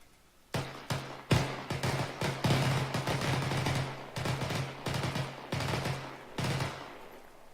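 Bursts of automatic rifle fire at autorifleman training, roughly ten loud, close volleys of rapid shots separated by short pauses, with sharp onsets and echoing tails, no talk.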